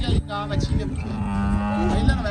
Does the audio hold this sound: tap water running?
no